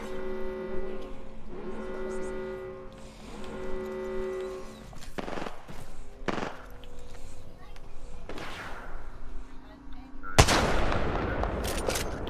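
Video game gunfire crackles in scattered sharp bursts and single shots over a humming tonal backdrop, closing with a heavier, louder barrage near the end.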